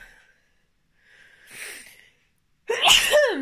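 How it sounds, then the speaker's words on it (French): A person in the middle of a pollen allergy lets out one loud, sharp sneeze near the end, after a few soft, breathy intakes and a short quiet pause. "Je suis en pleine allergie au pollen. Du coup, j'éternue."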